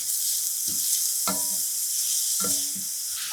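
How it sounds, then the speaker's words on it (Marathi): Chopped onion with a pinch of salt and asafoetida, plus chillies and curry leaves, sizzling in a pan under a steady hiss, with a few scraping stirs of a spoon against the pan. "आणि कांद्याला रगड सोनेरी रंग येईपर्यंत परतून घ्यायचा"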